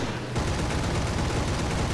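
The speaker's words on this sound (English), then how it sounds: "Use the cannons." Cannons on a Bf 109 E-4 fighter fire in the War Thunder flight game as a dense, continuous burst of rapid, harsh blasts that stays loud throughout, with no talking.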